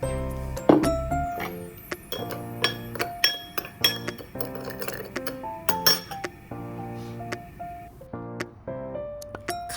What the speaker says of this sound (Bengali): এটা অয়েস্টার সস আর চিনি দাঁড়ান একটু মিক্স আপ করে নিই